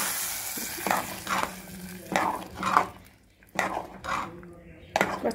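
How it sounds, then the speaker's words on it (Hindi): Pongal is stirred in a frying pan, with a spoon scraping and clinking against the metal in quick irregular strokes over a soft sizzle, close up and with no talking. "इसको अच्छे से मिक्स कर दीजिए"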